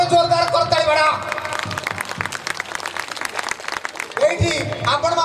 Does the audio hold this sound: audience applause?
yes